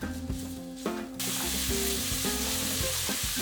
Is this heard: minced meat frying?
yes